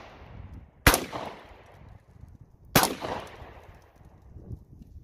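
An AR rifle fires at a target outdoors, with two loud, sharp shots about two seconds apart, each followed by a fading echo over low background noise.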